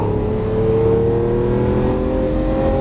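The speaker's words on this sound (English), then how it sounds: "accelerate a little bit, and now accelerate out of the corner over to the left side of the track" Lamborghini Aventador LP700-4 accelerating hard out of a corner on a race track, a steady loud engine drone with rising harmonics held throughout, close and continuous.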